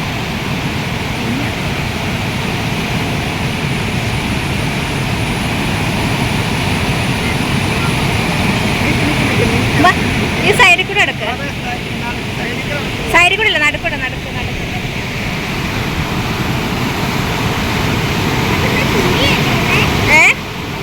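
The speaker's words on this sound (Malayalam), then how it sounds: "ആ വെള്ളത്തിൻ്റെ ഒരു ഒഴുക്ക് നോക്കിക്കേ നമ്മുടെ കല്ലാറട്ടിലെ ഡാം തുറന്ന് തുറന്നിടുന്നോണ്ടാണ് ഇത്രയും വെള്ളം ഇങ്ങനെ ഒഴുകണതേ" River water released from the opened Kallar dam rushes past in a loud, steady roar that fills the whole stretch.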